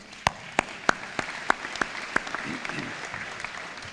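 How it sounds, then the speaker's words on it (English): A few hands clap at an aerospace and defense workers' appreciation event, about eight sharp, evenly spaced claps that thin out and fade, fairly faint against room noise. "I'd like to give a round of applause for those guys"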